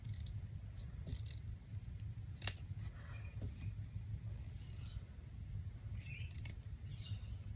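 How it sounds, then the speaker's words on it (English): Small scissors trimming embroidery thread, giving a few faint, sparse snips with one sharper click, heard close over a quiet low hum. "So I think I might have a little trim of that."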